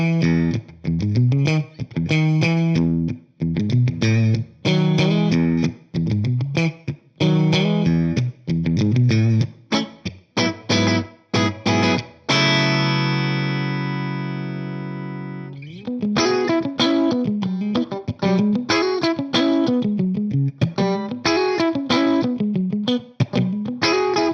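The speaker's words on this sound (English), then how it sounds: "I can split the bridge humbucker, I can have the neck pickup in series, and I can have the middle pickup in parallel" A James Tyler HSS electric guitar with split bridge humbucker, neck pickup in series, middle in parallel and preamp engaged plays clean, chorused picked notes and chords throughout, with one long ringing sustained chord in the middle.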